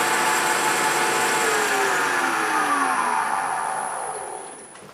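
A wood lathe spinning while a square scraper is plunged into end grain, giving a loud, continuous whirring hiss with slowly falling tones as the cut eases off and fades near the end, without voices.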